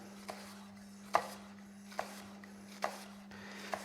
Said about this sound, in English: So same action, toe to heel again with the cook's knife, and we're just going to follow it through.